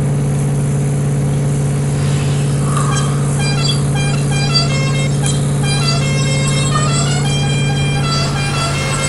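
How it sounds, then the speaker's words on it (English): A registered barn-find car being driven, with a loud steady engine drone and cabin rumble throughout, plus scattered higher tonal whines and squeaks layered over it. "so I'm going to drive this one home."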